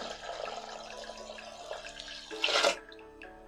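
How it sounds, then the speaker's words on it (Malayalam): Half a litre of water pours into a pressure cooker over a lentil base, a soft steady splashing stream close by that swells briefly near the end before cutting off. "അര ലിറ്റർ വെള്ളം ഒഴിക്കുവാണേ"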